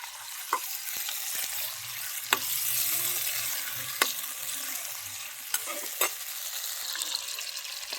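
Chicken, about 750 grams, frying and being stirred in a karahi for a white chicken karahi: a steady close sizzle with scattered sharp clinks of a utensil against the pan, no talking.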